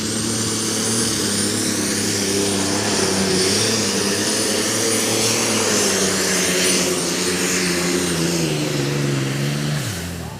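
A super stock pulling tractor straining under load at a tractor pull in Füchtorf, a loud, dense, continuous engine roar with a high whine layered on top that drops away abruptly at the end.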